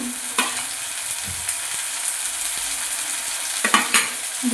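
Ginger garlic paste fries in hot oil for a fish head curry, a loud, close sizzle broken by a few sharp scrapes and taps of stirring.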